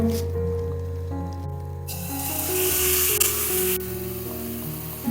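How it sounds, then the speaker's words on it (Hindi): Chicken frying in about a tablespoon of oil in a pan, a steady close sizzle that hisses brighter midway, with faint kitchen hum underneath. "यहां पे हमने एक पैन लिया है और उसके अंदर हम 1 टेबल स्पून के करीब जो सा वो ऑयल डाल देंगे और उसके बाद हम उसके अंदर ये चिकन को डाल के फ्राई करेंगे।"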